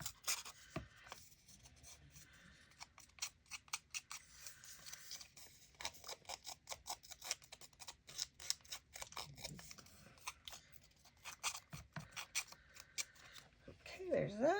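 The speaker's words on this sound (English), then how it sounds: "I'm going to grab my scissors and do a little roughing up here on the sides." Soft scraping and snipping at close range, scissors rasping along a paper edge in short repeated strokes, faint and uneven.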